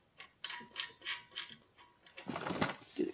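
A ratchet tightens a bolt during a Hazard Sky 2-inch lift install on a Jeep Cherokee KL, with a run of quick metallic clicks followed by a louder clanking stretch, close and moderately loud and with no voices.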